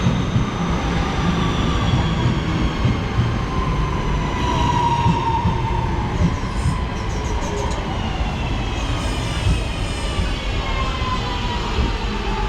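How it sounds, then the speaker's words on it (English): A Class 323 electric train, unit 323202, rumbles into a station with a loud continuous roar, rising motor whine and occasional wheel squeal, close by and steady throughout. "here's our train,"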